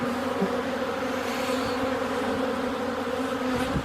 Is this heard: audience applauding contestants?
no